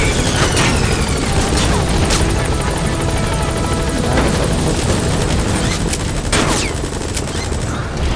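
A helicopter arrives at a landing zone in Metal Gear Solid V, its loud steady rotor roar filling the scene while bursts of gunfire crackle over it, up close with no talk.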